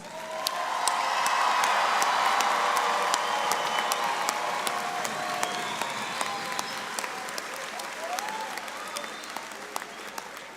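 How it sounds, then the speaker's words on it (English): Sustained audience applause with some cheering and whoops fills a high school graduation ceremony hall, loud and steady at first and then gradually tapering. "let's give them a big round of applause."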